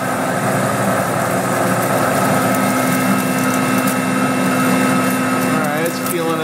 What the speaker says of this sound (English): Alright, it's peeling a nice chip.